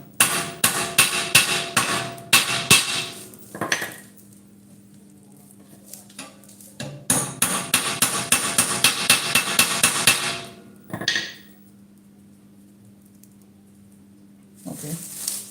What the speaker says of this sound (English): I have to hammer it.